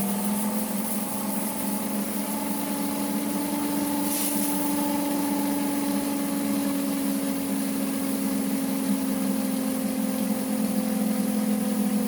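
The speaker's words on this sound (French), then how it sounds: "On entend clairement là la vitesse ralentit, la pression d'eau diminue, on a presque vidé la canalisation." A Pelton water turbine whirs with a steady whining drone and strong tonal hum as water pressure drops and it slows, the pitch sliding gently downward over a constant rushing background.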